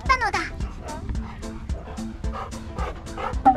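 Several huskies greet a visiting golden retriever with excited whimpers, yips and short barks in a rapid, overlapping flurry, close and fairly loud throughout.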